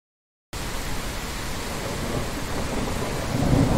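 Thunderstorm with rain in the video game Airport Renovator: a loud, dense wash of rain and rumbling storm noise begins suddenly after a moment of silence and swells slightly toward the end.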